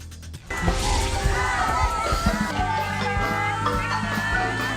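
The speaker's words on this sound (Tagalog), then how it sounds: "Hiyawan ng mga nakahilerang empleyado" Employees lined up along a red carpet at Malacañang Palace cheer loudly as a homecoming reception gets underway, a dense wash of voices and shouts rising abruptly after a brief quiet start, with music or tones mixed underneath.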